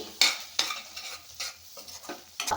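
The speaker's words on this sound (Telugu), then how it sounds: "ఉప్పు కారం వేసుకున్నాక కలిపేసుకుందామండి" Salt and chili powder are stirred into potato curry gravy in a pan, producing a series of sharp scraping strokes about every half second over a faint simmering background, with no talking.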